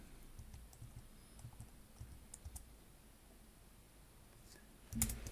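Soft, rapid clicks of typing on a computer keyboard during a Node-RED development session, a faint patter of keystrokes with one sharper tap near the end.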